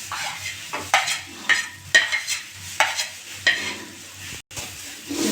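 Boiled potatoes are stirred in a pan with cumin, coriander and chili powder. A rhythmic series of scraping strokes rises over a low sizzle, with a short pause near the end.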